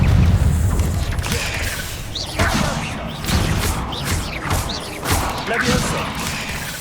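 Confringo fire spell explosions in the Hogwarts Legacy video game: a series of booming blasts and crashes, several sharp impacts spaced about a second apart over a steady rumbling combat bed.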